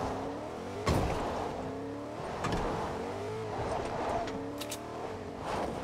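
A car driving in Fortnite, its engine revving and surging steadily with sharp impact knocks and brief squeals over a continuous motor drone.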